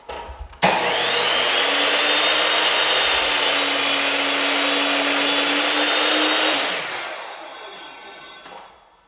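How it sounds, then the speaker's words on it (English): A power saw cuts through a wooden window trim piece, starting with a sharp whine that holds loud and steady for about six seconds and then winds down to silence. "Let's go ahead to the saw and cut that piece up."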